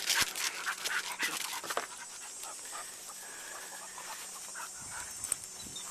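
Close dog panting, rapid and breathy, with a few thin whimpers mixed in, then settling into quieter background outdoor noise.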